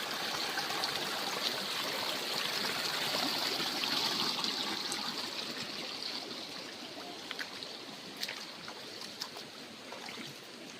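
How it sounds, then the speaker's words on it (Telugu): Spring water from a hillside, piped down to a remote forest homestead, streams and trickles steadily in a continuous, fairly faint wash, with a few small splashes and no voices. "ఇదిగోండి ఓట ఎలా వస్తుందో వాటర్."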